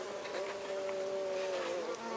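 Mirim guaçu stingless bees buzz around their hive, a close, steady, continuous drone with a wavering pitched whine from nearby bees, with no voices.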